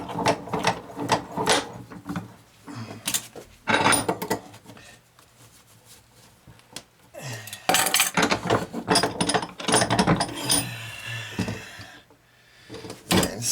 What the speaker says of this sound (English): So we're going to put it in the clamp here.